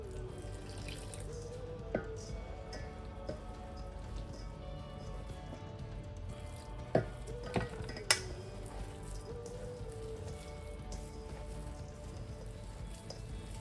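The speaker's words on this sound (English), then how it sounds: "So I'm going to start with a 1/2 cup of water, and we will work our way in if it needs more." Water trickles into cassava dough as it is mixed by hand. The sound is quiet and close, with soft wet splashes and a few sharp little clicks and taps.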